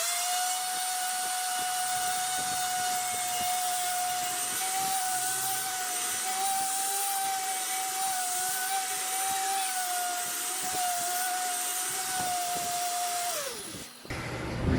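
Heavy duty electric grinder milling dried corn, a steady loud motor whine with gritty crunching that runs unbroken for most of the time, then winds down abruptly and stops near the end.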